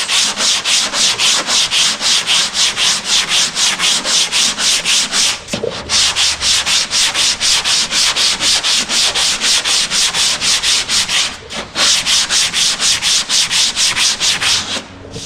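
Hand sanding of bare metal on a Honda CRX body repair with 80 grit sandpaper, a steady run of rapid back-and-forth rasping strokes close up, with two brief pauses.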